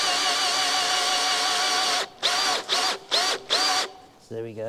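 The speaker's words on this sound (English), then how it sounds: "The best technique I've found for these is to drill all the way through, try and find the hole for the bracket, and then just keep drilling" Power drill bores through an oak timber frame and metal bracket, a long steady whine followed by four short bursts of drilling with pauses between, close and loud.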